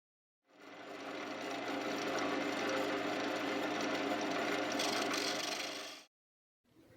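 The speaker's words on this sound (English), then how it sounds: "here I'm just using my Forstner bits to drill out majority of the center part" A Forstner bit bores out the center of a wooden vase on a lathe, a dense continuous grinding whir that starts abruptly, holds steady for several seconds, then cuts off.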